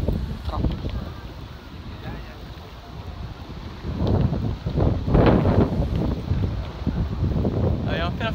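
Wind gusts rumble steadily against the microphone in Tokyo, swelling in the middle, with voices talking underneath.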